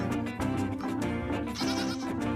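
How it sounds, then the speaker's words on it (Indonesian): A goat bleats in loud, wavering cries over about two seconds, up close, with no talk. "Yang ini kambing teman-teman. Wah, embe."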